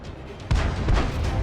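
Crusader 5.5-inch self-propelled artillery gun firing in a tank video game, a single sharp, heavy boom that bursts in and then rolls on as a sustained low rumble.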